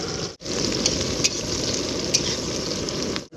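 Onions tipped into hot oil sizzle and crackle in a steady, loud fry with faint clinks on top, cooked outdoors at a night picnic alongside green chillies before river prawns go in.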